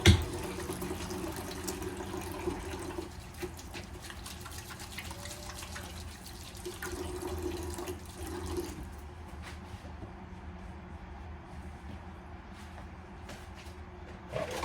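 Water runs steadily from a kitchen tap while hands are washed, a close, moderate splashing gush that fades toward the end.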